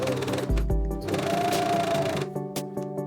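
Sewing machine stitching pleats on a button-up dress shirt, a close, steady motor whir running for a few seconds before slowing and stopping, set against soft background music.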